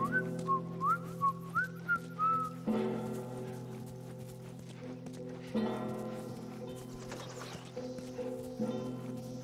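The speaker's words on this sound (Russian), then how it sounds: "Я могу свистеть." A short run of clear whistled notes in The Last of Us, rising and falling in quick chirps at the start, then fading under a steady droning background with a few clattering footsteps.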